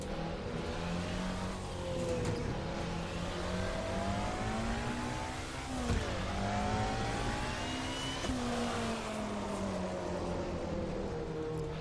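A DRM race car engine in Assetto Corsa revs and accelerates steadily through the gears, with rising and falling harmonic sweeps and shift breaks, loud and continuous throughout.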